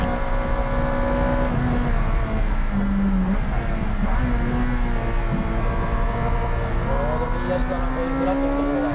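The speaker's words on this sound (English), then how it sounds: "The spoon-tuned B18 engine seems to be running with great rev balance and precision." A Spoon-tuned Honda B18 engine in a race car driving on a circuit, a loud steady engine drone with shifting rev tones close to the microphone throughout, with someone talking over it.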